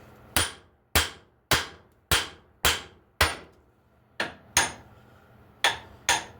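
Hammer striking the upper control arm and tie rod suspension parts on a Chevy S10, ten sharp metallic smacks in an irregular rhythm, close and loud with quick decays and no talking.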